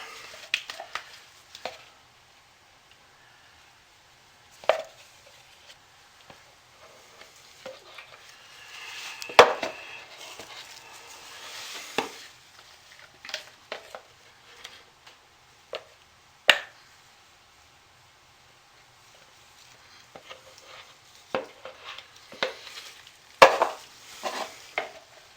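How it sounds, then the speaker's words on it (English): Soap being scraped out of a column pour mold, a handmade dish soap project, with scattered short scrapes and taps, close and fairly quiet, separated by near-silent gaps. "I'll try to scrape some of this out,"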